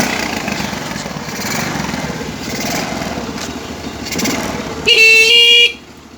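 A Yamaha Nouvo motorcycle engine runs at idle with a steady buzzing drone, then cuts out at the end as it is switched off; a short electronic beep briefly sounds near the finish.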